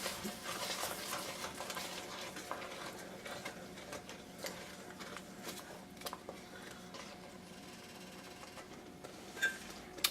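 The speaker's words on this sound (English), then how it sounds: "I'll scrape off any of the bits on the bottom as well." A utensil scraping browned bits from the bottom of a pan of simmering chicken tikka masala: soft, irregular scrapes and knocks close up over a faint bubbling sizzle, quiet and with no voices.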